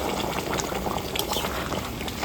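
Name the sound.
hot water poured into cooking mutton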